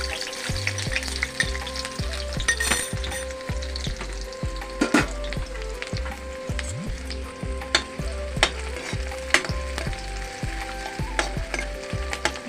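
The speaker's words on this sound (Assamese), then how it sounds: "এতিয়া তেল গৰম হৈ গ'ল। এতিয়া মই পিঁয়াজ দিছোঁ।" Onions dropped into hot oil for an Assamese kosu thuri dish, frying with a steady close sizzle broken by repeated rhythmic clicks and scrapes of stirring throughout.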